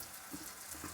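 Jalebi batter fries in hot oil over a high flame, giving a steady, close, dense sizzle with no pause and no talk.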